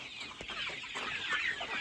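Free-range desi chickens clucking steadily in a noisy poultry farmyard, several birds calling close by with no pauses.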